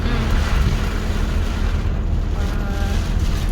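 Steady roar of strong wind buffeting the microphone with a dense wash of heavy rain, loud and continuous throughout, during a rainstorm in Thailand.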